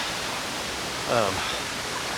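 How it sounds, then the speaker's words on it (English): A waterfall on a stream in the Ozarks gives a broad, even rushing roar close by, while a voice speaks briefly over it. "This whole stream just has waterfalls after waterfalls on it."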